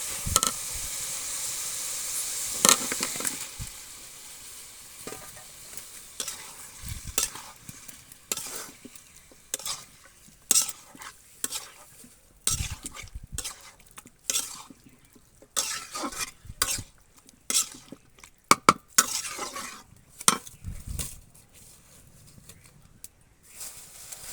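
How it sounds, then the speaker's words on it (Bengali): Chicken pieces are stirred and fried in spice paste and oil over a clay stove. Scraping strokes and bursts of sizzling repeat irregularly at close range over a faint steady hiss. "এখন তেল ছেড়ে দিয়ে দিচ্ছি মশলাটাতে এখন আমরা মাংসটা দিয়ে দেবো"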